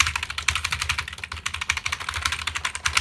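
Rapid, uneven clacking of keys being typed on a computer keyboard, close up and continuous, with no talking.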